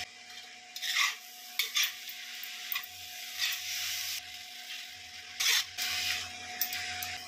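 Fourteen kinds of leafy greens with salt and turmeric being stirred in a pan, giving soft scraping and rustling bursts at irregular intervals over a faint steady hum, fairly quiet and close.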